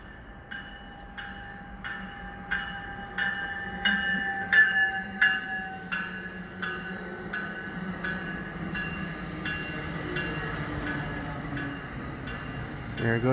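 Via Rail passenger train passing through Dorion station in Quebec at night, a moderate rolling rumble with a rhythmic series of clanking wheel beats and a tonal bell-like ring, steady and fairly near throughout.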